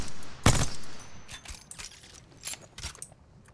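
Suppressed weapon fire in the shooter game Apex Legends: one sharp muffled shot, then a string of softer mechanical clicks and light bursts, with no talking.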